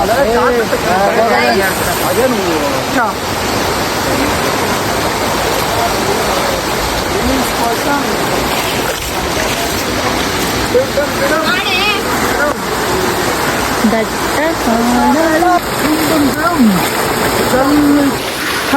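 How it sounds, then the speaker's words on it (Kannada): A small outdoor waterfall produces a loud, steady rushing roar that fills the scene, while several people talk and call out over it. "ಇಲ್ಲೊಂದು ಚಿಕ್ಕ ವಾಟರ್ ಫಾಲ್ಸ್"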